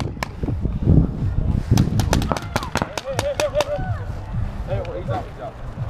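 Paintball guns fire during an outdoor paintball game in Peralta, New Mexico, a rapid run of sharp pops in quick succession, some in bursts, with players shouting over and between the shots.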